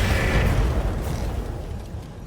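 A sniper artillery round from a Ballista in Roguetech strikes and explodes in a loud broad boom, which then rumbles and fades out over about two seconds.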